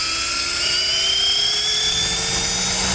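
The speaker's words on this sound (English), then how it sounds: "So if we go ahead and spin it up again here real quick," A drill spins the rotor of an electric motor from a Hyundai Kona, giving a steady high-pitched whine with tonal harmonics that holds a constant pitch throughout without a pause.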